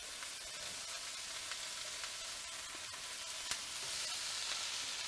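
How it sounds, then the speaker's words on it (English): Zucchini, pepper and garlic frying in a pan give a soft, steady sizzle with faint crackles, quiet and uninterrupted, with no voices. "zucchini and our pepper right into that pan, along with the garlic"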